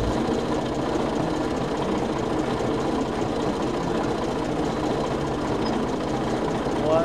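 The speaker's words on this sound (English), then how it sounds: "This is my first time driving a tractor." A tractor engine runs steadily nearby, a constant chugging, vibrating drone with a rhythmic knock, unchanged in level throughout.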